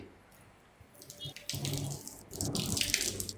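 Water poured and splashing in a household setting, starting faint and then growing into louder bursts of running, splashing water through the second half.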